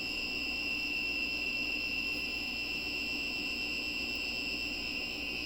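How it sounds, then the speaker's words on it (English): A steady high-pitched electronic alarm tone from a pure sine wave inverter running on scooter pack batteries drones continuously over a low hum, unchanging throughout with no speech. "started getting some kind of an alarm. Out of this pure sine wave inverter."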